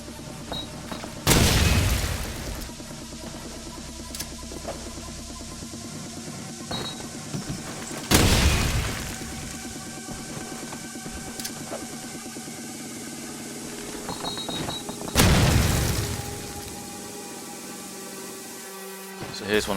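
Three grenades go off in Call of Duty 4 on the map Crash, each a loud booming burst spaced several seconds apart over continuous game background hum and scattered effects.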